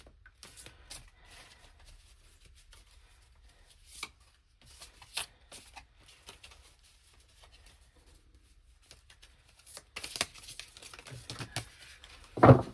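Tarot cards being handled and shuffled for a reading, with soft riffling, sliding and scattered taps of cards laid down, quiet at first and growing busier toward the end, with no voice.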